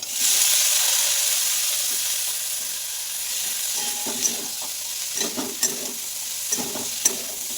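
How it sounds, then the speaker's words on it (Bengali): Chopped bottle gourd sizzles steadily in a hot pan with ginger-cumin paste, chili and turmeric, a bright continuous frying hiss joined by several scraping stirs of the spatula toward the end, close and fairly loud with no talk. "কুচনো লাউ দিয়ে দেবো"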